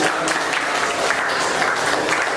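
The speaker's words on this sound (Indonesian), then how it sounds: "Beri tepuk tangan buat kalian." Students who have just presented get steady, dense applause from a classroom group, filling the whole short stretch at an even level.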